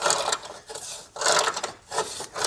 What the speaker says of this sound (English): Just gonna use a pair of channel locks, get that broke loose.